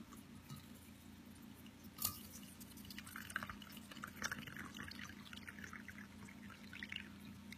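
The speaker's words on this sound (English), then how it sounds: "And then you just pour your water over." Hot water poured over loose-leaf tea in a glass mug with an infuser, a soft continuous trickling and splashing with a few sharper drips, close and fairly quiet, with no voices.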